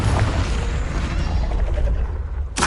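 A Confringo blasting spell explodes in the video game Hogwarts Legacy, giving a loud, broad booming burst that rumbles and fades, followed by another sharp blast right at the end.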